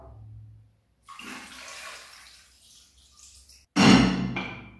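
Water is poured into a Meknes-style tangia clay pot, first as a soft gurgling trickle and then as a louder splashing burst near the end, close by with quiet gaps between.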